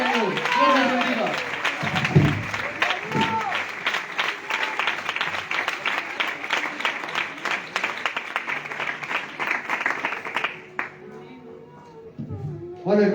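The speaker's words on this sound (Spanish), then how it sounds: "cuántos lo creen y dan un aplauso para el Señor" Congregation at a church youth service applauds, a long run of lively, rapid clapping with some voices mixed in, fading out near the end before a brief sound at the close.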